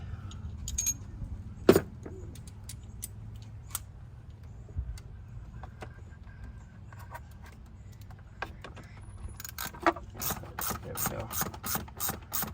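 Ratchet and tools working the 8 mm bolts on a 2008 Ford Escape V6, faint scattered clicks and clanks that pick up into a quicker run of ratcheting toward the end.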